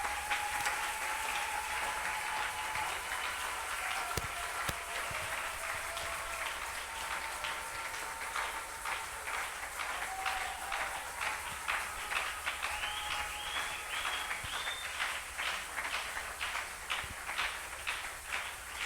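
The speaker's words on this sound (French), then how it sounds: "On acclame, on acclame, on acclame," A church congregation applauding, a dense, even wash of clapping that holds steady throughout at moderate volume, with faint voices and tones in the background.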